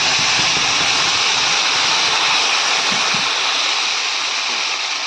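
Paste of onion and green chili sizzling in a hot pan, a dense, steady hiss of frying that stays close and unbroken throughout, with no voices.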